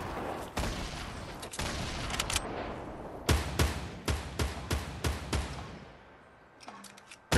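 Grenade launcher fire in a battle royale shooter: a rapid string of about eight heavy, booming blasts in close succession, preceded by earlier scattered explosive bursts and followed by a fading lull with a few faint pops.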